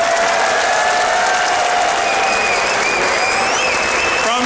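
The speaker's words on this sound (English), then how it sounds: "give a big round of applause to EG Jaedong" Audience applause at a StarCraft WCS Season 2 Finals tournament, a dense, loud, continuous wash of clapping with some cheering and whistles from a large crowd, steady for several seconds.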